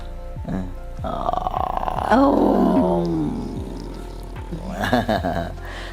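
A person imitates a tiger's roar, a rising, growling vocal roar that swells loud in the middle and trails off, followed by another rough growl.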